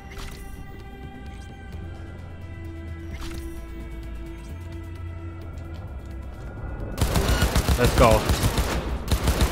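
Rapid gunfire bursts in Cyberpunk 2077 break out after a quiet stretch of game ambience, loud dense shots continuing to the end, with someone speaking briefly.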